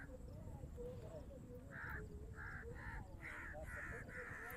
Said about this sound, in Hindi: उस साइड पे कौवे जो है ना उन्होंने भी काफ़ी ज़्यादा मचाया हुआ भी शोर